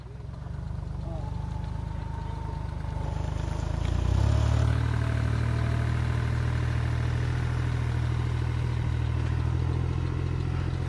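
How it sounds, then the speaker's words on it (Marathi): A tractor runs in a grape vineyard made muddy by unseasonal rain, its engine idling with a steady low drone, then rising in revs and holding a heavier pitch, close by. "तो ट्रॅक्टर काढला ना आता हा भाऊ, परत लगेच टाकतोय"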